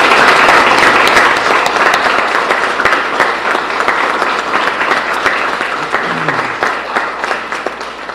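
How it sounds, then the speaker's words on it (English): A crowd at a political endorsement event for Pennsylvania Governor Tom Wolf bursts into loud, sustained applause for the Human Rights Campaign, a thick wall of clapping from many hands that continues throughout with slight fading toward the end. "could we have a round of applause for the Human Rights Campaign?"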